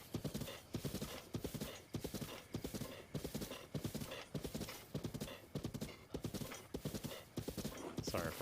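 A horse's hooves clip-clop in a steady, rhythmic gallop while riding in the video game The Legend of Zelda: Breath of the Wild, close and continuous throughout.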